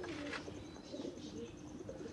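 A Qasoori Golden Kamagar pigeon kept for sale in Faisalabad gives soft, low cooing at close range, quiet and continuous against a faint background hum.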